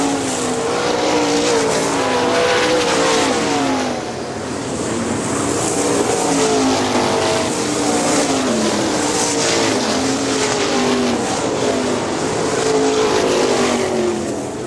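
410 sprint cars race at Hartford Speedway in Michigan, engines roaring loud and continuous as the pack circles, pitch rising and falling through the turns, with the car of Jason Blonde drifting high out of turn two.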